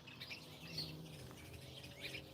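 Birds chirp outdoors during a quiet pause at a parked truck, with a few faint high tweets over a low background hum.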